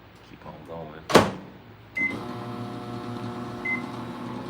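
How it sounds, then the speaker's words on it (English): An old, low-powered 650 watt microwave oven runs with a steady hum, with a sharp clatter near the start and faint beeps over the drone. "I think this is a super old microwave, like I think it said like a 650 watt, so it takes a long time"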